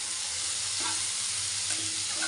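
Tikki patties frying in a pan give off a steady, close sizzle, with a couple of faint scraping touches and no voices.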